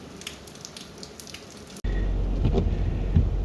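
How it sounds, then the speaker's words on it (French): Heavy rain outdoors on a Corsican coast before a spearfishing dive, starting as a soft patter and then jumping abruptly into a loud, dense, continuous hiss of downpour. "il pleut méchamment"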